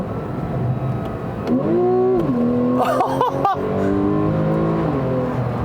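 A 2015 Porsche 911 Carrera S with a 3.8-litre flat-six accelerates hard, its engine wail rising and falling in pitch through several gear changes, loud and close over steady cabin rumble.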